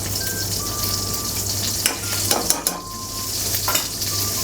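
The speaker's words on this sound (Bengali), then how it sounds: "একটু রসুন কুচি দেওয়া হয়েছে এখানে।" Chopped garlic frying in butter in a pan for a lemon butter fish sauce, a steady close sizzle with a few scraping stirs and light utensil clicks, no talking.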